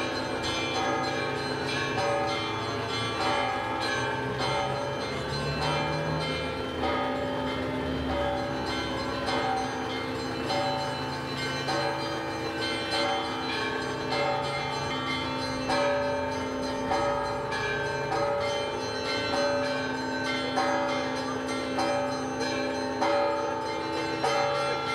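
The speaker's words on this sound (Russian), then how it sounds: "Праздничный колокольный звон сопровождал процесс установки креста." Festive church bells ring steadily at a chapel during a cross-raising ceremony, their sustained, layered tones filling the whole stretch loudly and evenly with no speech.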